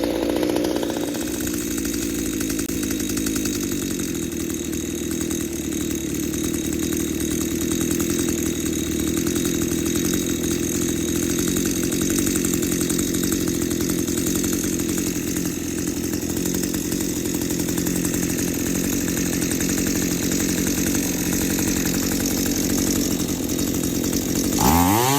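A two-stroke chainsaw engine, freshly decarbonized, runs steadily at a high buzzing idle for a long stretch, loud and close, with a brief change in pitch near the start and end and no talking.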